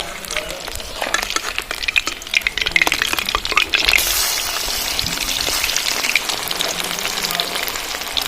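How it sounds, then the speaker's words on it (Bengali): Lote fish pakoras sizzle steadily in hot oil over low to medium heat, a dense crackling hiss that swells louder partway through as the pieces are turned, with occasional scrapes of a spatula and no talking. "পকোড়াগুলো ভাজার সময় লো টু মিডিয়ামে রাখবেন তাহলে ভেতর থেকে পকোড়াগুলো ভালো ভাজা হবে পকোড়াগুলো আমি এবার উল্টিয়ে দেবো"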